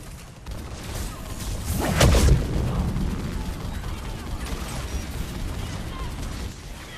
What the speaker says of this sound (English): Atlas damage over time rocket, gotta love it.